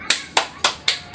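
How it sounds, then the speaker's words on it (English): A class of students claps in unison after group reports, giving four crisp, evenly spaced claps in a quick rhythm, close and clear with no talking over them. "give yourselves a good job clap"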